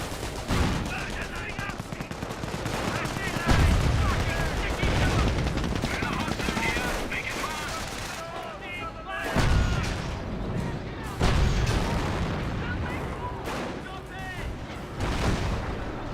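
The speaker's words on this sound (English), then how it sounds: "Pack 38 firing away." Pak 38 anti-tank gun firing in the WWII strategy game Company of Heroes, repeated booming shots amid a busy mix of gunfire and battle noise, with a voice talking over the action.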